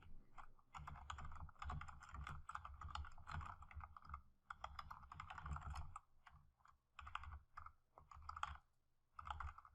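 Steady quiet tapping of fingers typing a question on a computer keyboard, with dense clusters of key clicks, a few brief pauses and no talk.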